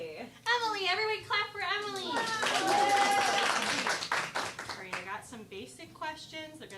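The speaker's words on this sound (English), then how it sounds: "Everybody clap for Emily." Audience clapping on a late-night show as a contestant named Emily is welcomed, a brief burst of applause mixed under steady talking voices.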